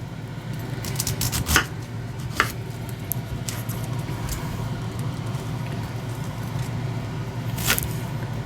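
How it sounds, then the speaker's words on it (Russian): A few sharp knife chops on cabbage land sporadically against a board, isolated clacks over a steady low background hum, with no talking. "И капусту нарезаем"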